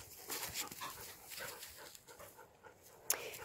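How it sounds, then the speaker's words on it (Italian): Roadside dogs pant and let out faint whimpers close by, quiet breathy panting with occasional small whines and a brief sharp noise near the end. "Guardate come sono belli, sono dei cani molto equilibrati."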